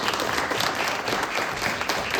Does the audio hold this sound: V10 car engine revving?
no